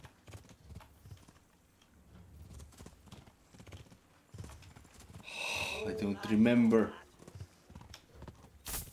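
Horse hooves clop steadily beneath loud, excited talking, with a brief whinny-like burst partway through, in the game Kingdom Come: Deliverance.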